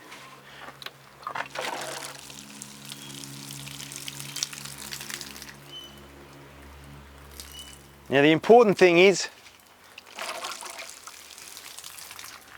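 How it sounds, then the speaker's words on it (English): Water poured from a container drenches a potted cactus, running and gurgling through the soil and out of the drainage holes, a short close sloshing burst with a quieter trickle, while a person talks before and after. "This is what we do to water a cactus."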